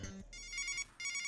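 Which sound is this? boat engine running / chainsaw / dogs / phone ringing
phone ringing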